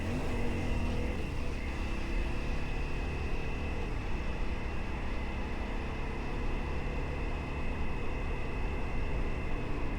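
A motorcycle being ridden with a long selfie stick mounted to it, a steady engine drone with rumbling wind buffeting, continuous and loud throughout.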